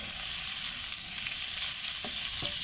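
Fried dried chilies stirred into shrimp in a hot pan for salt-and-chili prawns, giving a steady close sizzle with a couple of brief stirring scrapes near the end.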